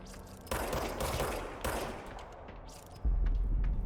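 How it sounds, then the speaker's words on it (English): Bursts of gunfire from enemies in the video game Control, rapid overlapping shots in loud clusters with a heavier close blast near the end, no voices. "Oh, they're shooting back now."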